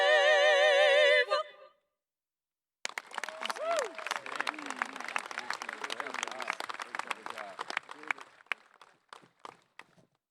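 A high school graduation audience claps after three women sing, a dense burst of applause with whoops that thins into scattered claps, preceded briefly by a held musical tone and silence.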